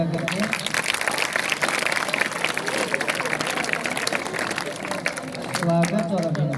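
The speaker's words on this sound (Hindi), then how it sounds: "जोरदार ताली बजा करके" A school audience at a Navratri lamp-ceremony event gives loud, dense welcoming applause that runs throughout, with voices mixed in underneath.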